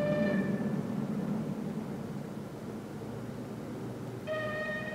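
A train runs steadily along a line near a railway level crossing in 1970s East Germany, a continuous rumble and hiss with faint tonal whines at the start and end, with no voices.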